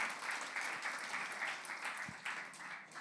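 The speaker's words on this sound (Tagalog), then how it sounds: "Sige po, malakas sa palakpak para sa ating Panginoon." A church congregation applauds the Lord, steady dense clapping from many hands filling the room, continuous and fairly loud throughout.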